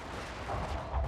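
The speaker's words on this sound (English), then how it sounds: "here comes bombardment" Artillery bombardment thunders in Total War: Fall of the Samurai, a short burst of deep, rumbling cannon booms rolling together over a dense battle din.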